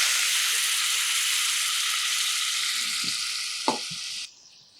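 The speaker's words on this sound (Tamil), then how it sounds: "புளிக்கரைசல் சேர்த்துக்கலாம்." Tamarind extract poured into a hot pan hisses in a loud, steady sizzle, with a brief utensil clink near the end before the sound suddenly drops away.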